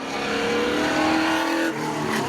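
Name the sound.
drag race cars at Seekonk Speedway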